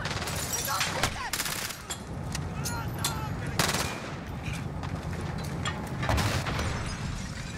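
Rapid gunfire in the Modern Warfare campaign: bursts of automatic fire and sharp single shots crack over a dense battle din, some booming and close, with shouted voices mixed in.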